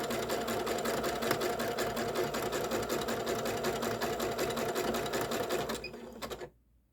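A sewing machine stitches lace and tulle together in a steady, close, rapid mechanical run, cutting off abruptly near the end.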